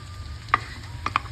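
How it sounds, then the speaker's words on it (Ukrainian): Chopped onion and coarsely grated carrot frying in a pan, a quiet low sizzle under a few sharp clicks of a utensil against the pan. "Помішуючи, обсмажуємо все до готовності овочів."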